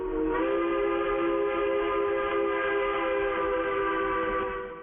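A steam locomotive sounds a long, steady, harmonic whistle that holds loud and unbroken for several seconds over the low rumble of the train, with no voices.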